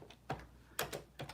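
Quiet keystrokes on a computer keyboard: a handful of soft, separate clicks spaced irregularly, close and faint.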